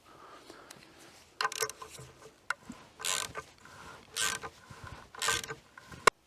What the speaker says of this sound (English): standard ratchet, 15mm socket, and we'll just tighten this